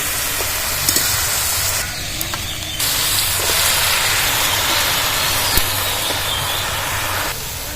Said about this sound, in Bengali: এবার শাকগুলো দিয়ে দেবো শাক দেবো আর নাড়াচাড়া করতে থাকবো